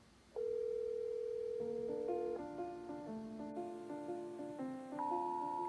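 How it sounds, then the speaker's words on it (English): A telephone line plays a steady tone followed by a stepped series of electronic ringing and dialing tones during a work-from-home call for a hospital social worker, clear and fairly quiet with no talk. "It's like one of those phones that just like never stop ringing."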